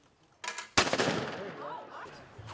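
A shotgun fires once during supervised trap shooting, a sharp loud blast that rings out over open ground and decays slowly, with a softer thud just before it and faint voices afterward.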